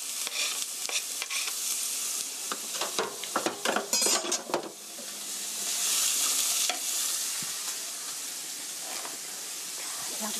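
Sliced onion and garlic stir-fried in hot oil ahead of bacon for gnocchi: a bright hissing sizzle with quick metallic spatula and pan clinks early on, then a steadier hiss.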